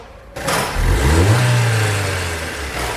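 A Fiat Palio 1.2 engine is revved once, stumbling and hesitating as the throttle opens before rising and settling back toward idle, loud and close with no voices.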